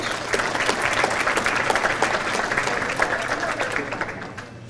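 A bowling association banquet audience claps steadily for several seconds, a dense even patter of hands from a moderately large room that tapers off toward the end.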